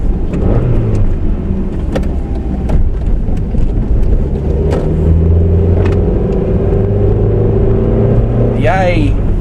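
A 2005 Mercedes A200 W169 manual front-wheel-drive hatchback driving along, a steady loud engine and road rumble throughout with a faint short squeal at the very end.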